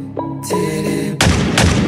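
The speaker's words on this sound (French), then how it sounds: "C'est juste un mariage, les coups de feu au pays, ça fait partie du paysage." Gunshots fired at a wedding ring out as two sharp, loud bangs in quick succession, cutting in over a musical backing.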